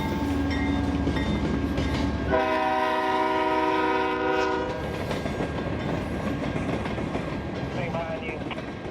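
Southbound train K803, pulled by a single locomotive, sounds a long horn blast over a low rumble, then rolls past with a continuing clatter of wheels that gradually settles.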